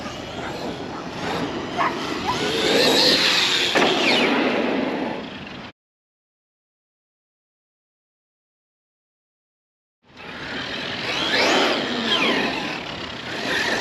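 Traxxas Xmaxx and Arrma Big Rock RC trucks with Max6 ESCs run outdoors, electric motors whining and revving with gravelly tire noise, a burst of driving, a few seconds of dead silence, then another stretch of revving.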